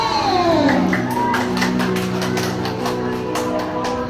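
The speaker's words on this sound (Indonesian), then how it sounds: "Berikan tepuk tangan yang meriah untuk Bapak Sulijo." A crowd applauds and cheers at a hero cosplay competition on 25 August, a steady wash of clapping with scattered shouts laid over a sustained musical tone, loud and continuous throughout.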